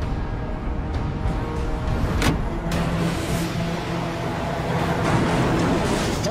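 A truck reverses off a slippery road, its engine a continuous rough rumble with hissing noise over it and a few sharp clicks, holding loud and steady throughout.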